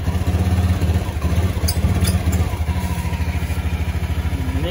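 A Honda Beat ESP scooter with a hard-starting, sputtering engine idles nearby with a loud, uneven low pulsing and slight clatter, and no one speaks.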